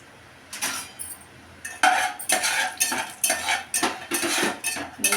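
Cashews and almonds frying in ghee are stirred in a pan, bursts of spoon scraping and clinking against metal over a low sizzle, close and fairly loud, no speech.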